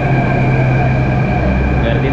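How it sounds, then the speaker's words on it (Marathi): A Delhi Metro train arrives at Red Fort station with a loud, steady rumble and a sustained electric whine, close by and unbroken throughout. "मेट्रो आली आपली,"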